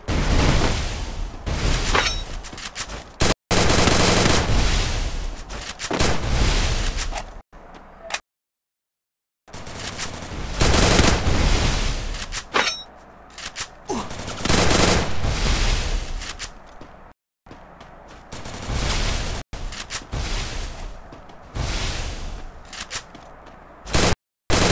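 Loud, dense bursts of rapid gunfire with booming impacts, broken by a few short silent gaps, sounding like frantic video game combat.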